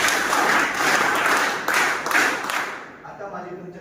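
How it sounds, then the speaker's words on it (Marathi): A school audience claps together in a sustained burst of applause that fades out toward the end, with a voice speaking over it. "मला वेगळं टाळ्या वाजवा सगळ्यांनी यासाठी"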